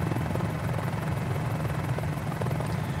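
A Mini-500 helicopter in a flight simulator game, flying around Moorea island, drones with a steady, loud rotor and engine chop, continuous and unbroken throughout, with no talk over it.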